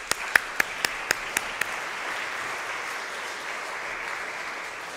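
A church congregation applauds during a United Methodist worship service, a soft, steady wash of many hands with a few sharper individual claps standing out near the start, fairly distant and even throughout.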